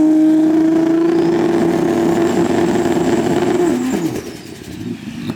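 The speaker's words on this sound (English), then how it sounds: "They're just doing a 100-foot test on the FRS Pro Mod." An FRS Pro Mod drag car makes a short 100-foot test run at a drag strip, its engine a loud, sustained high-pitched wail that climbs, then drops away sharply near the end as the run finishes.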